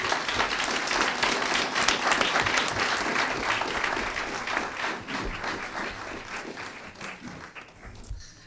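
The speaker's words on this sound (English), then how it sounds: "give all of us, and especially our presenters, a round of applause" A crowd applauds steadily for several seconds, the clapping gradually thinning and fading out at the end.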